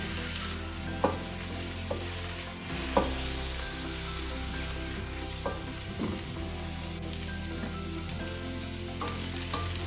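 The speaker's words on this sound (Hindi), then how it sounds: "और 1 कप गोभी, इसे भी थोड़ा फ्राई कर लेते हैं।" Broccoli and cauliflower florets stir-fry in hot oil as mixed vegetables, giving a steady close sizzle with occasional sharp clicks and scrapes of stirring and no talk.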